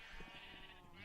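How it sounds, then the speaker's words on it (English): Sheep bleat on a sheep farm in the Minecraft video game, a short, close, wavering cry. "So this is his sheep farm."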